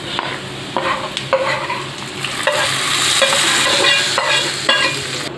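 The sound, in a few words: stirring nendran banana payasam with roasted coconut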